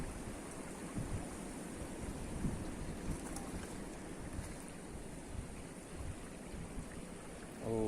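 Creek water flows near Yolçatı in Silivri, Turkey, as a steady, continuous rush. Heavy wind noise on the microphone largely masks it.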